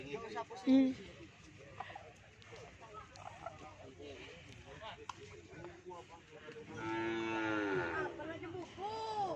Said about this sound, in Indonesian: di sebelah timur saya ada juga sapi kecil masih yang baru datang guys